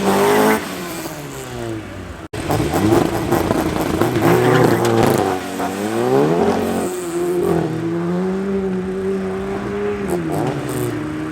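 VW Polo and Honda race cars in a drag race at Midvaal Raceway, the Honda with a fault, engines revving loudly through rising gear sweeps, one car's note holding steady near the end, with speech underneath.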